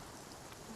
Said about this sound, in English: All this rain, will it ever stop?